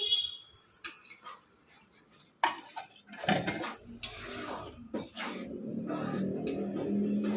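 A utensil stirs chickpeas and peas into a thick curry gravy in a pan, with sharp clinks and scrapes against the metal followed by steady, wet mixing sounds that grow denser.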